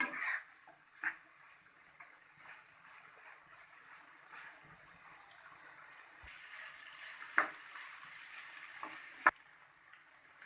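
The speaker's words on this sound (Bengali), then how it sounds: "এখন আমরা সুন্দর করে ভেজে নেব।" Chaler atar jhal, a rice-flour dish, frying in a pan at low volume, with a soft continuous sizzle broken by a few sharp clacks of stirring or utensil knocks on the pan.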